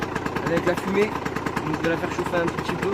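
A Sherco 50cc motorcycle with its stock exhaust runs close by in a warm-up, a steady buzzing two-stroke drone, while someone speaks French over it.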